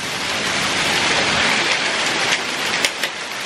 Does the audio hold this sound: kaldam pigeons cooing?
no